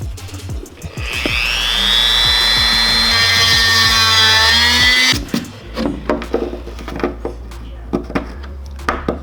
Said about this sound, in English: So I'm gonna use this Dremel